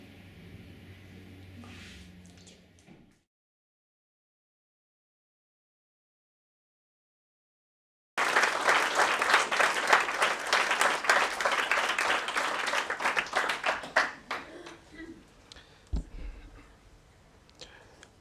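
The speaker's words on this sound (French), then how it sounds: "Je vous prie encore d'applaudir" Audience applause at the 2016 Martine Anstett human rights award ceremony: after a voice and a stretch of silence, dense clapping breaks out loudly and then gradually thins and fades.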